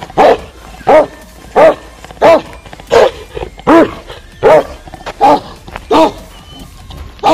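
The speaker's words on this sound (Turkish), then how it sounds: "Bu da hazırlanıp havlayacak galiba." Large dogs, guard breeds likened to Kangals, bark loudly and close by in a village, giving about ten evenly spaced heavy barks across several seconds with no other sound between them.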